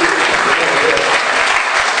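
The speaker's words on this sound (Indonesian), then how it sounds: "Tepuk tangan untuk anak saya dulu Bapak Ibu." A seminar audience bursts into loud, dense applause for a child who won a school English storytelling contest, many hands clapping close and continuous throughout.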